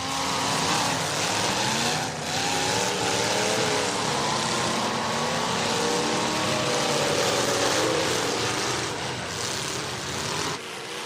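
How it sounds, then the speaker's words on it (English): A demolition derby car spins its tires in place without gaining momentum, its engine revving loud and close in long, wavering roars over crowd and arena noise. "you can see there, just spinning the tires, not able to get any momentum in that machine"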